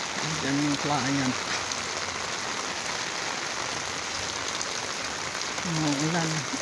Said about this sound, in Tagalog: Umuulan. Ito yung buntot ng bagyong habagat.